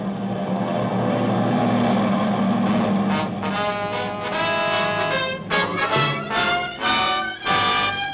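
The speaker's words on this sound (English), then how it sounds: "Do you hear that? Is it... Are those planes?" A 1942 radio drama sound effect of warplanes approaching as war begins, with a steady, loud propeller-engine drone that swells and pulses as the aircraft draw near, without talk.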